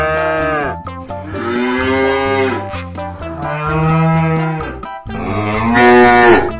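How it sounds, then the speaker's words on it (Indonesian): Black and white dairy cow mooing loudly and close, three long drawn-out calls separated by brief pauses. "Ini sapi belang nih, si sapi susu atau si sapi perah."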